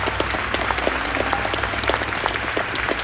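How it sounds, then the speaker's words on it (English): An audience at a Veterans Day event claps for veterans, giving a loud, dense burst of many hands that stays close and steady throughout. "Big round of applause for our veterans for the land service."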